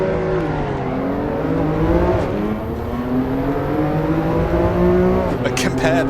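In the Assetto Corsa Evo racing game, a race car engine whines loudly and continuously, climbing in pitch through the revs and dropping with each gear change, with a faint tire squeal near the end.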